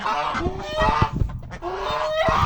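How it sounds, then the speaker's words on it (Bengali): A native deshi rooster in a backyard flock gives two loud, rising calls close by, one after the other, with scratchy shuffling and bird noise between them. "এটা হচ্ছে একটা দেশি মোরগ"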